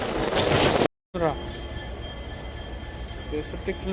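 A passenger train pulls into Boko railway station, with a low rumbling roll and metallic wheel squeal. The sound cuts out for a moment and then carries on at moderate loudness.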